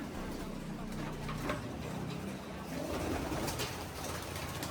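Racing pigeons coo in a loft, with soft overlapping throaty calls from several birds close by against a low background hum.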